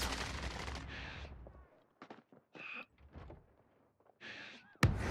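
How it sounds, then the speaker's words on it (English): A rooftop shooter in a video game fires several short, sharp gunshot bursts at middle distance, separated by brief pauses, ending in one loud close crack. "There was someone on a rooftop shooting at us."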